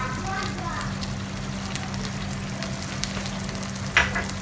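Green chili and kasuri methi being stirred into a sizzling masala for a boneless masala handi, with a steady fry hiss under a low hum and a brief scrape of the spoon near the end.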